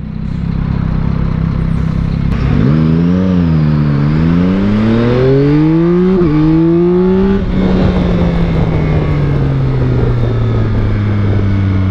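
Yamaha Tracer 9 GT+ motorcycle in sport mode accelerating hard, its engine note climbing steeply through several gears with brief dips at each shift, loud and continuous with wind noise, no talk.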